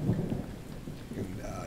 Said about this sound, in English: because it is a rainy day